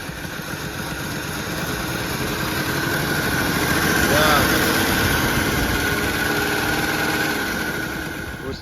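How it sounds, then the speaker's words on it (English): Engine of a classic AMC Eagle running at a fast idle after being revived, a steady, loud mechanical drone with a slight swell in the middle that holds for the whole clip. "It had a really fast idle."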